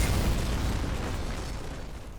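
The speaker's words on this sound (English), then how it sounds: "it was just a generic explosion" An explosion in the video game Dead Space (2023 remake) opens with a heavy low boom and then rumbles and crackles as it slowly fades, heard alone without any talking.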